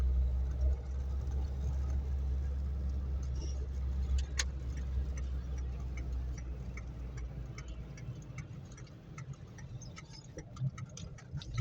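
A car on a driving test route in Gaziantep Şehitkamil drives along and turns with a low, steady engine hum, joined by a faint rhythmic ticking like a turn signal.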